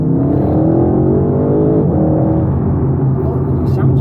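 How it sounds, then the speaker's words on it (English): An Audi RS6 V8 revs hard in second gear with the gearbox in sport manual mode, heard from inside the car. The deep engine note climbs and holds loud and steady throughout. "It's a good quality V8 noise."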